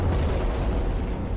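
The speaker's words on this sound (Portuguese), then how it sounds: "Um grande objeto explodiu em Tunguska, na remota Sibéria." A deep, rumbling explosion effect represents the 1908 Tunguska blast in remote Siberia, a loud, sustained low boom that rolls on without break and has no voices over it.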